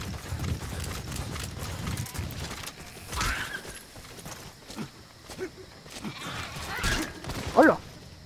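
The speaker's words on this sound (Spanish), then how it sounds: "las cabras" Goats in Metal Gear Solid V clatter past with scattered hoof-like steps over a murky background, with a few louder thumps and a brief high squeal near the end.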